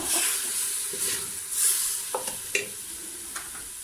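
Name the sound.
stirring cumin into harira soup in a pot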